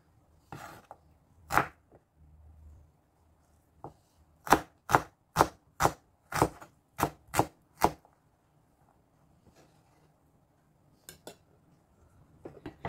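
A very sharp kitchen knife chops garlic and onion with a few scattered strikes, then a quick, even run of about nine crisp chops on a board, fairly soft and with no talking.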